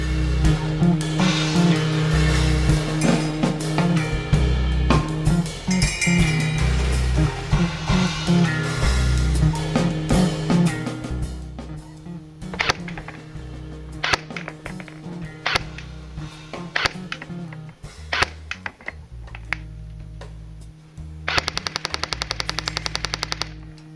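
Airsoft gun with a 9.6 V 1600 mAh battery firing Elite Force .20 BBs through a chronograph, heard as loud, rapid bursts of mechanical shots, dense automatic strings early on, then sparser volleys and single shots.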